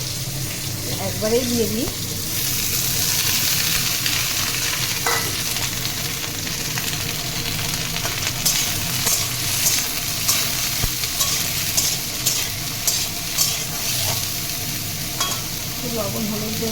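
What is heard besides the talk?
bitter gourd frying in hot oil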